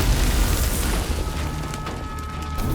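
Violent steam explosions burst where a blue flare meets cold air: dense, loud booming and crackling blasts, with a roaring, hissing wash between them and sharp pops near the end.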